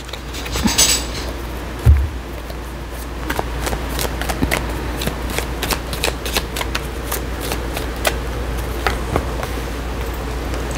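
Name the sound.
shuffling tarot cards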